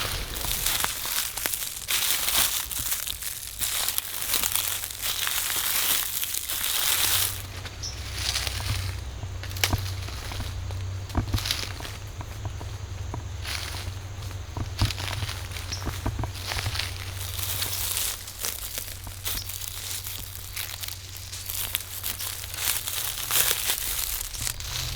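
A hunter creeps through bushes at the edge of a field, making close rustling, crunching footsteps and crackling brush in an irregular, continuous shuffle.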